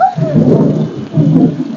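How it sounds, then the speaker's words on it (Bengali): Heavy rain pours steadily in a storm, a dense, close wash of falling water with a low rumble swelling at the start and again near the end, no voices over it. "দেখলে বৃষ্টি কত জোরে জোরে পড়ছে, মনে হচ্ছে ঝড় হবে"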